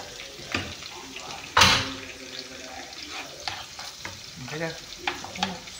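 Onions sizzling in a frying pan for chicken liver adobo, a steady sizzle with stirring clatter and one sharp burst, with faint talk nearby.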